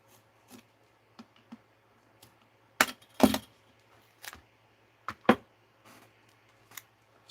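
Scattered crisp snips and rustles as a piece of material is cut by hand, in short irregular bursts with quiet pauses between, close by with no talking.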